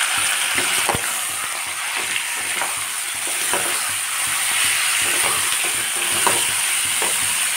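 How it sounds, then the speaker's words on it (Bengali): Chicken stir-fries over a high flame, with a loud, constant sizzle in a hot pan broken by repeated scraping strokes of a spatula roughly every half second, close up and with no talking. "চিকেনটা হাই ফ্লেম দিয়ে আমি নাড়তে থাকব"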